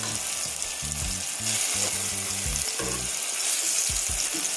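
Plantain slices frying in a pan, a steady loud hiss of hot oil with bursts of stirring scrapes and clatters from a utensil, close up and without speech.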